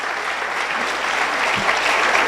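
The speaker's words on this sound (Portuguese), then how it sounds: "Vamos dar um aplauso para o Senhor Jesus nessa manhã." A church congregation applauds during a morning service, brisk continuous clapping that swells a little toward the end.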